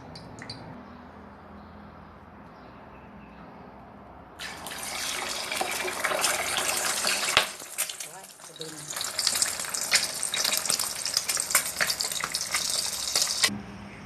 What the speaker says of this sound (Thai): ทอดไข่ดาวรอก่อนพี่น้อง